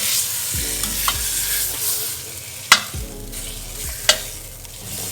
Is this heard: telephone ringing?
no